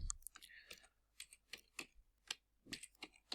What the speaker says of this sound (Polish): wciskam klawisz Enter